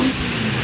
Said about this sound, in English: This car could not do a burnout before, and you see what it does now.